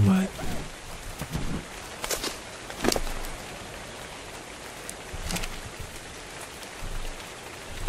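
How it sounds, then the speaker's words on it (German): Steady rain hisses down in the survival game ARK: Survival Evolved, a dense, even patter with a few brief louder gusts and faint voices in the background. "so ein Regen macht sich übrigens auch total gut"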